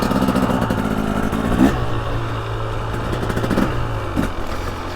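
A 2023 KTM 300XC two-stroke dirt bike engine runs close and loud, blipping through a couple of sharp revs before settling back into a buzzing idle.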